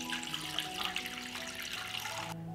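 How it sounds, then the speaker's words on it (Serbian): Water poured into a pot lined with a cloth and holding jars, filling it to lid height: a steady close splashing stream that cuts off just before the end. "Isipat ću vodu do visine poklopca."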